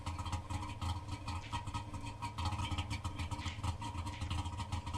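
A car engine idles in the video game The Long Drive, a steady low rumbling chug with faint rattling, close and continuous throughout, no voices.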